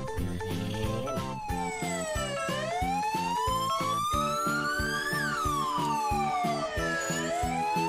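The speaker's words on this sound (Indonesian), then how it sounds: "Wadidaw, ada mobil ambulans." A toy ambulance's electronic siren wails continuously. Rising and falling sweeps repeat over a pulsing beat, loud and close, with no talking over it.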